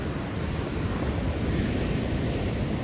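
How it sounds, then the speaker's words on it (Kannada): Sea waves break on a village beach in a steady, dense wash of surf with some wind buffeting the microphone, continuous and fairly loud with no voices. "ಒಂದಲ್ಲೇ ತೂಲೆ ಕಡಲ್ಡ್ ಎಂಚ ಅಲೆ ಬರ್ಪುಂಡು"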